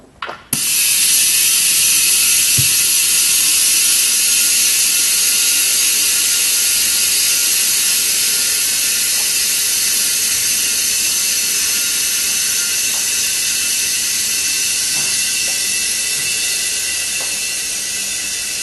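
Compressed air hisses steadily and loudly through a valve stem as a tire liner inflates, starting with a brief clank and then running as a continuous close-up rush with no talk.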